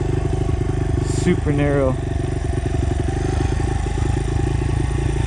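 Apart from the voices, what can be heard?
Honda XR motorcycle riding down a narrow hill trail in first gear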